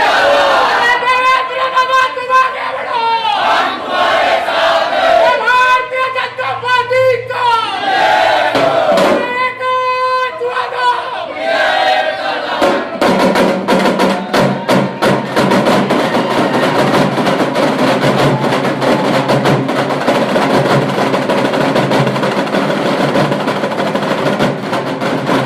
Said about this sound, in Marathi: कार्यकर्त्यांची गुलालाची उधळण, ढोलताशाच्या गजरात नृत्य करत तसेच जोरदार फटाक्यांची आतिषबाजी करत जल्लोष सुरू होता